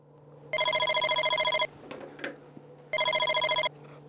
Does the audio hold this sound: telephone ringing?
yes